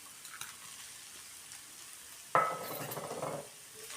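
Onion thecha with crushed peanuts sautéing over low heat, a faint background sizzle until a sudden louder burst of frying as something hits the pan, then a fading hiss.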